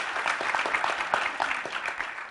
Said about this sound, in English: so let's get a round of applause for this panel.